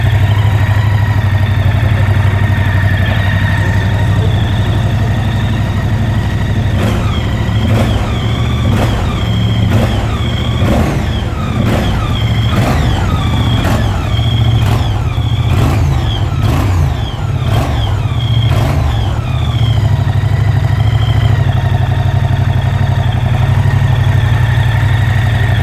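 A Moto Guzzi V100 Mandello (2023) motorcycle engine idles steadily and loudly up close, with a deep rumble and a series of sharp, rhythmic ticks or blips partway through.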